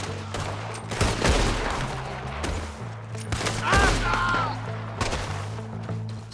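Heavy gunfight in Red Dead Redemption 2 on PC, a fusillade of overlapping rifle and pistol shots with crashes and impacts, loud and continuous, while a player talks over the battle.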